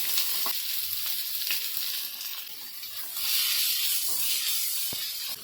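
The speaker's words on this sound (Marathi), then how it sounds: "कांदा चांगला लाल होईपर्यंत भाजून घ्यायचा" Onion fries in a pan of oil with curry leaves, giving a steady close sizzling hiss with occasional stirring scrapes and a brief tap, and no talk.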